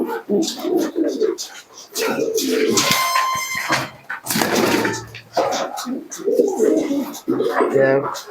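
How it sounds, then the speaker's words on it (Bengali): Soft coos of Giribaj pigeons come and go amid people talking nearby, with a brief rustling burst midway. "এই এক জোড়া কবুতর দেখুন গিরিবাজ কবুতর"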